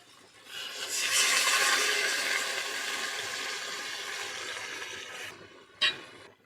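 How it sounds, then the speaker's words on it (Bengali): Water pours into a pot of cabbage and potatoes during Sundarban village cooking, a loud steady splashing gush lasting several seconds alone, ending with a brief clatter. "আলুটা ভালোভাবে সিদ্ধ হওয়ার জন্য আমি একটু অল্প পরিমাণে জল দিয়ে দেবো।"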